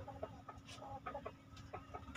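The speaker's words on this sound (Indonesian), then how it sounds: "Ini saya berada di kandang ayam." Chickens cluck in a poultry coop on a chicken-farming business, several soft, scattered calls over a low steady background hum, fairly faint and without talk.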